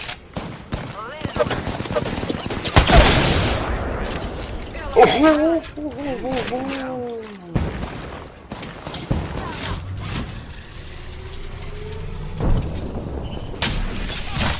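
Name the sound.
gunfire in video game Apex Legends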